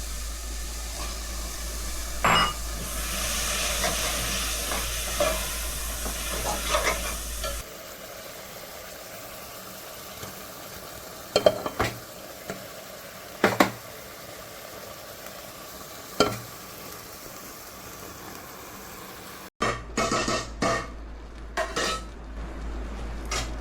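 Prawns stirred in a hot pot for prawn biryani, with a soft steady sizzle broken by clanks and scrapes of a spoon against the metal pot, quiet and close, no talk.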